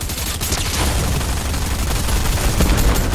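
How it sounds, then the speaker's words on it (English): Explosions in a Fortnite match come as a dense, loud crackling barrage of blasts and gunfire-like bursts that continue without a break. "Ayan, sabog ulit."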